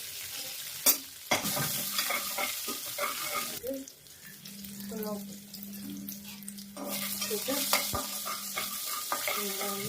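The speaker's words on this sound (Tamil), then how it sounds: "ஒரு 5 சாம்பார் வெங்காயம், ஒரு 3 காஞ்ச மிளகாய் போட்டுக்கிறேன்." Cumin, curry leaves, small shallots and dried red chillies frying in hot oil for a soya curry, a close crackling sizzle with stirring and scraping bursts, a steady hum running underneath, no talk.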